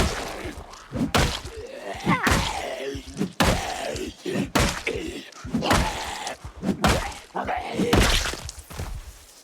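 Zombies in Project Zomboid bang and thud repeatedly on wooden barricades, heavy irregular blows coming close and loud, mixed with groans throughout.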